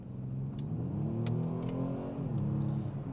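A 2023 Kia Stinger GT's 3.3 V6 revs up steadily inside the car, its engine note rising and holding for a few seconds before easing back, moderately loud with no talking over it.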